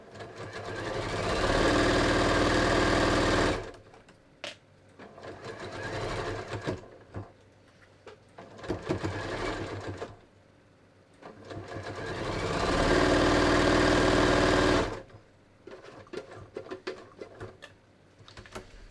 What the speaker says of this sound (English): We're just going to sew up this side.